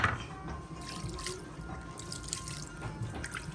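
Water is poured into a pot for Moroccan couscous, a steady close trickle and splash that runs evenly for a few seconds with no voices.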